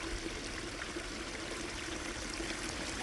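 A backyard pond waterfall in winter snow trickles and splashes continuously, a steady, even stream of falling water with no voices.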